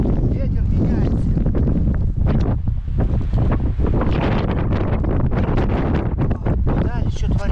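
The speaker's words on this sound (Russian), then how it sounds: "Ветер меняется." Strong wind gusting during a snowstorm while ice fishing, loud buffeting against the microphone with continuous roaring rush; someone speaks intermittently over it.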